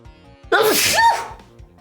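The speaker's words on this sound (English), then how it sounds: "I'm gonna sneeze" A single loud, sharp sneeze bursts out close by, with a quick breathy lead-in and a forceful release lasting under a second, then fades back to near quiet.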